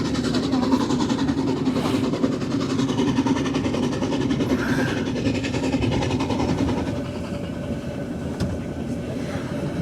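A steam train runs along the tracks through a snowy, icy landscape, a continuous loud rumbling churn with rhythmic mechanical clatter that eases slightly toward the end.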